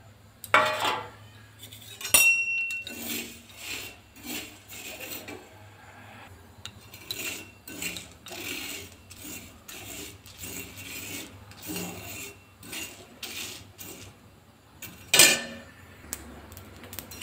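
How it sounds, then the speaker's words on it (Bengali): Spices dry-roasting on a hot tawa, a close rasping scrape of a spatula pushing them around in bursts, with occasional metallic clinks and a low background hum. "একটা তাওয়া গরম হতে দিয়ে দিয়েছি, আর এটাতে আমি এই মশলাগুলো একটু ভেজে নিচ্ছি।"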